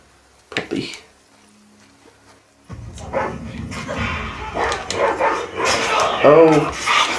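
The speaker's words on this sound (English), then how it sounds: "Come here, dog." A dog barks and whimpers in The Last of Us Part II, short close yelps with game ambience and a voice talking over the later part.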